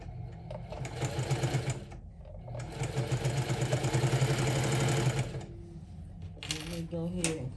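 A sewing machine stitches down a pocket on a quilted crossbody handbag made from a scarf bandanna, running in two sustained buzzing bursts with a short pause between, then stopping with clicks while a voice speaks briefly.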